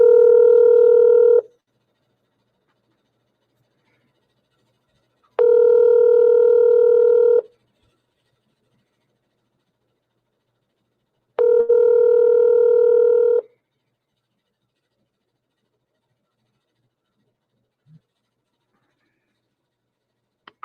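A telephone call rings through as three long, loud ringback tones sound, each about two seconds long and spaced several seconds apart, with silence between them.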